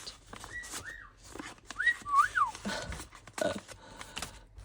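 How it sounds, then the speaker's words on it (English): Clear, sliding whistled notes rise and fall in short bursts amid rustling and scattered clicks, fairly close. "That's Pickle whistling"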